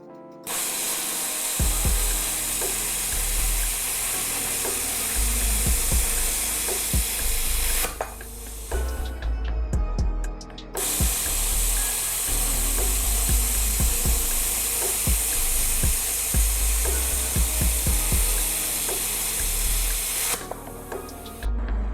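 An Arccaptain Cut 65 plasma cutter slices 12 gauge sheet metal in two long, loud, steady roaring hisses with crackling and popping, a brief quieter pause between them and another start near the end.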